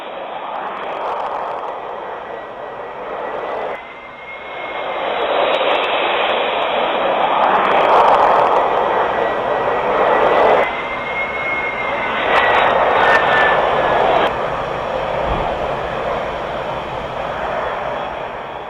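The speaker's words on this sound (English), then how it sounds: "the drama of the approach and landing at Kai Tak Airport" An airliner approaches and lands at Kai Tak Airport in Hong Kong, its loud, steady engine roar swelling and easing over nearly twenty seconds and holding close throughout.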